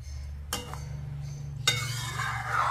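Lauki chana dal cooks in a pot with a faint steady bubbling, and a spoon scrapes and clinks against the pot twice during stirring.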